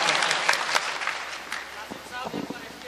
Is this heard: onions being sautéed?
no